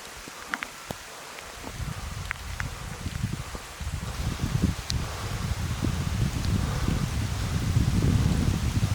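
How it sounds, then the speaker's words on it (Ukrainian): Light rain begins on a high Carpathian mountain pasture, a soft patter and rustle that grows steadily denser and louder, with faint scattered ticks over it. "починається дощик"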